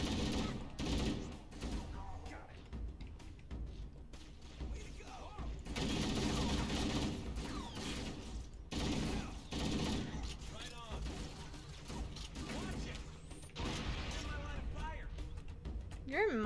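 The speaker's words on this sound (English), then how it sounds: "Don't stand in front of me when I'm shooting!" Rapid bursts of gunfire from Halo: Combat Evolved firefights, with shots that repeat and stop in irregular volleys, mixed with game effects and someone talking over the action.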